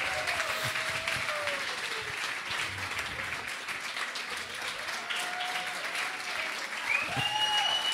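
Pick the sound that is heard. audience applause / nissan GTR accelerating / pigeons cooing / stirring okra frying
audience applause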